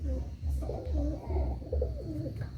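Pigeons coo in a loft at Chandipur, Medinipur, with a pair of Madrasi or Punjabi birds nearby; repeated low throaty coos roll out in steady bursts, close and fairly loud, with no one talking.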